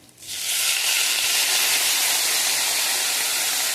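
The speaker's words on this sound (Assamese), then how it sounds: "এয়া ভাজা ভাজা হৈ গৈছে" Half-boiled potatoes and spice masala frying in a hot pan, a loud steady sizzle that bursts in within the first half second and holds without letup, with no talking.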